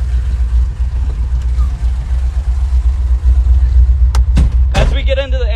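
A 1969 Dodge Charger's engine rumbles low and steady at idle, heard close up, with a couple of brief sharp noises near the end.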